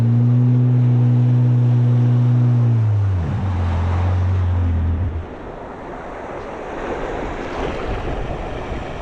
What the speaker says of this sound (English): I can actually hear like super amount of water coming through there